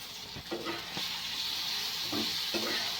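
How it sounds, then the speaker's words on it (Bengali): Spices frying with a little sugar and chili powder in a pan give a steady sizzle, with a few soft stirring scrapes over it. "সবগুলোকে একসাথে ভেজে নিতে হবে।"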